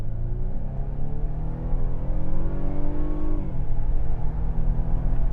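A Mercedes GLC 300 Coupe with a petrol engine accelerates uphill, its steady engine note rising under load before a gear change drops the pitch. The drone stays close and continuous afterward.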